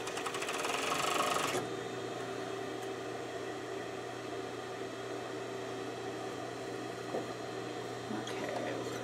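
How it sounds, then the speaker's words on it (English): An overlock sewing machine stitching fabric produces a continuous mechanical whir. It is loudest and most rapid in the first second and a half, then settles into a steadier, softer hum. "with the overlock to just kind of keep it extra secure"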